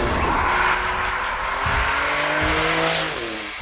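Porsche 911 Turbo S driven hard, close and loud engine tones climbing and dropping through gear changes, with tire squeal and a rushing roar, no voices.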